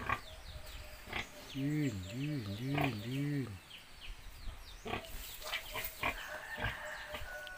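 A pregnant pig gives a few quick, rhythmic grunting calls, moderately near, amid rustling, windy outdoor noise and a brief spoken word.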